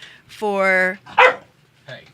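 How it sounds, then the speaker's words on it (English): A few short puppy barks in a quick burst, close by and fairly loud in a radio studio, with a brief pause between them. "puppies barking in the studio"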